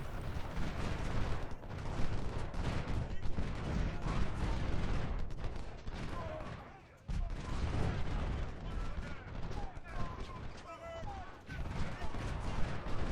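Artillery in the Civil War strategy game Ultimate General: Civil War, a 10-pounder Ordnance rifle firing exploding shells, heard as a dense, continuous roll of booms and crackling battle noise with a brief lull midway, steady and loud throughout.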